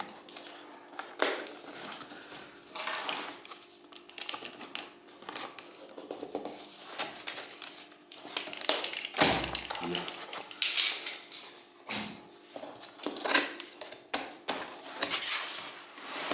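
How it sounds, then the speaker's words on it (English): Seal on a product box being cut and the packaging opened, with scattered scraping, snipping and rustling handling noises close by under occasional talk. "So let me cut through this seal first."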